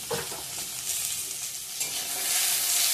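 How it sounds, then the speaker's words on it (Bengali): Onions and turmeric sizzle and fry in a pan with a steady, bright hiss, stirred now and then, swelling slightly louder toward the end with no talk. "ভালো করে ভেজে নেব।"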